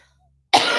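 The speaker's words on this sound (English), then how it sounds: "Nothing more fun than coughing out a lung on the internet for your fans." A single harsh, close cough from one person during a live-streamed chat breaks abruptly out of near silence and carries loudly to the end of the clip.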